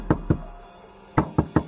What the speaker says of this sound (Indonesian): Riko kemudian mengetuk-ngetuk pintu rumah Pak Gino.